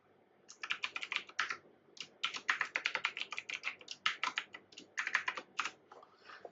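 Rapid, uneven keystrokes on a computer keyboard while a Splunk password is entered in a browser login page, close and clear with short pauses between bursts.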